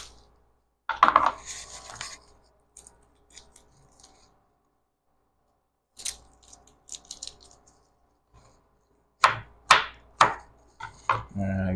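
A knife rough-chops fire cider ingredients on a cutting board, giving scattered clusters of sharp, close chops separated by quiet pauses.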